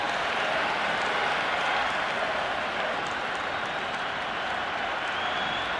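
A packed stadium crowd at an India vs Pakistan T20 cricket match applauds and roars in a dense, continuous wash of cheering and clapping that does not let up.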